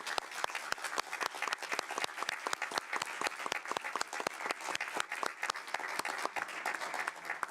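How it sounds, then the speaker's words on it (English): Audience at a city council meeting in Bothell breaks into sustained applause, many hands clapping in a steady, moderately distant patter throughout with no voices over it. "So I would like to give her an applause."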